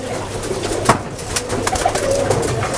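Coffee-coloured Giribaz pigeons coo in short, low bursts close by, over a steady background hum, with a few light knocks scattered through.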